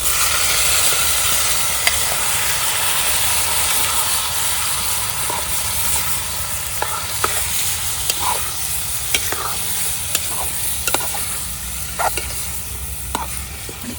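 Chicken and onions sizzle and fry in a pan over a hot wood-fired village stove, a loud continuous hiss broken by scattered scraping stirs, with no talking.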